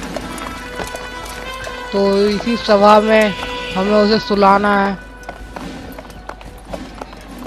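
Horse hooves clop in Assassin's Creed as a rider arrives at a gathering, a running rhythm heard under someone speaking Hindi.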